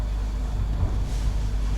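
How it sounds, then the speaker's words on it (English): Steady roaring wind buffets from outside a parked van during a storm in the Peak District, UK, a constant low rumble with gusts swelling and easing, and no voices. "Very windy out there, very windy."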